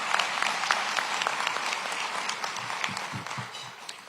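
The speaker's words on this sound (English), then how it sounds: "Give Officer Montgomery one more round of applause." Applause from an audience at a police-community relations awards ceremony, steady dense clapping at moderate distance that carries on throughout and slowly thins toward the end.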